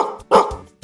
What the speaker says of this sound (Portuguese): O cachorro late